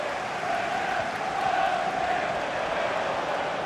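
Stadium crowd murmur in FIFA 22 during a Crystal Palace vs Manchester City Premier League match: a steady, continuous roar of many voices with a faint chant-like swell, no distinct cheers or applause.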